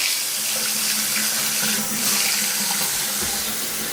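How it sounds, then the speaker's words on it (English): Water runs steadily from a newly installed bathroom vanity sink faucet, a continuous close splashing stream into the basin with no talk. "the water works and it drains"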